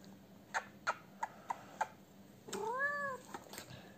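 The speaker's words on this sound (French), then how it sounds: "elle miaule" A cat meows once in a clear, rising-falling call, preceded by a series of soft ticking clicks, close and quiet in a calm indoor room.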